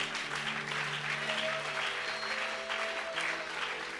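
A church congregation applauding, steady dense clapping throughout with a sustained musical tone beneath, no talk.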